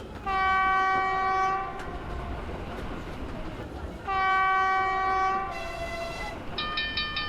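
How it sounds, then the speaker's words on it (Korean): A loud train whistle blows twice in long harmonic blasts, with a higher whistle tone at the end over rumbling rail noise. "기적 소리가 요란하게 울려 퍼졌어요."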